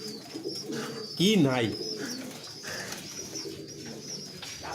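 Domestic pigeons coo in a home loft, a soft rolling coo rising clearly for a moment among steady low bird murmurs, while someone talks close by nearly throughout.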